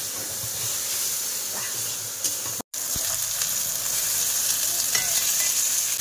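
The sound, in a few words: fish frying in a pan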